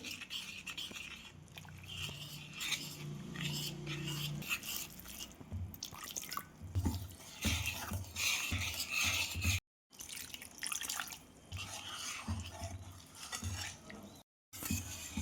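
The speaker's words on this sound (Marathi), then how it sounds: "थोडं थोडं पाणी टाकून पीठ मिक्स करून घेऊ" Water is poured in small splashes into flour in a pan, with dripping, scraping and stirring, several pauses between pours.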